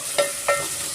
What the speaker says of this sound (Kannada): ಈರುಳ್ಳಿ ನಾವು ಚೆನ್ನಾಗಿ ಫ್ರೈ ಮಾಡ್ಕೊಬೇಕಾಗುತ್ತೆ